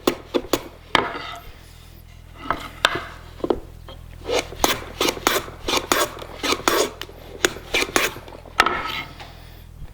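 Hand plane taking repeated passes along a wooden board while squaring it by hand with hand tools, giving a series of short, crisp shaving strokes, close and fairly loud, with no talking.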